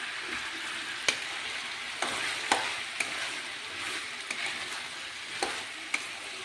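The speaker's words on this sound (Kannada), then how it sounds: "ಸ್ವಲ್ಪ ಅರಿಶಿನ ಪೌಡರ್. ಇವಾಗೆಲ್ಲ ಚೆನ್ನಾಗಿ ಮಿಕ್ಸ್ ಮಾಡಿ." Turmeric powder and salt are stirred into a village-style sambroli masala in a frying pan. A steady sizzle runs throughout, close and even, and sharp utensil scrapes and taps land about once a second.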